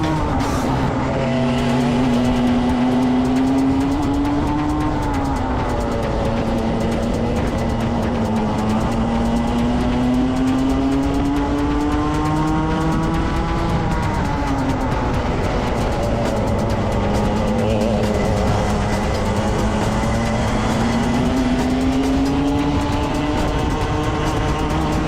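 Racing kart engines at a Club 100 competitive event scream continuously around the track, their pitch rising and falling through corners and straights, loud and close with no talk over them.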